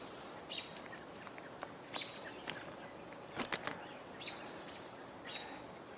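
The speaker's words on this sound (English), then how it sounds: "I hear a catbird, we hear robins" Several songbirds, a catbird and robins among them, sing in scattered chirps and short phrases at a moderate distance outdoors, with a brief louder burst of calls in the middle over a steady background hiss.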